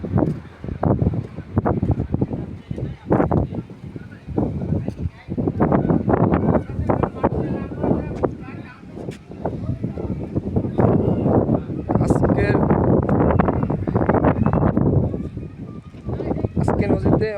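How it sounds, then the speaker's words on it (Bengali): Strong gusty wind blowing over a river at a ferry ghat, buffeting the microphone in heavy rumbling bursts that rise and fall throughout, mixed with someone talking continuously over it. "আজকে নদীতে অনেক বাতাস"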